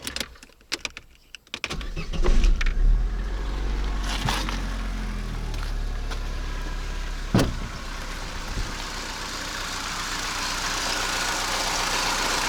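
An Opel Astra F Caravan engine starts and settles into a steady idle, close and fairly loud, a continuous low rumble with a few clicks and knocks before the start.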